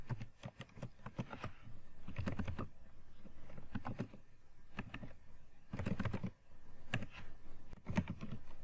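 Computer keyboard typing out JavaScript code, quick clusters of close, crisp key taps separated by short pauses, soft and alone without talk.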